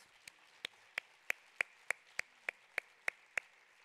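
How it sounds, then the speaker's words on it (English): Evenly spaced single claps ring out at an awards ceremony for nurse educators, about a dozen sharp, faint hand claps at a steady slow rhythm in a quiet hall. "Let's give a round of applause for Susan and for all the award winners."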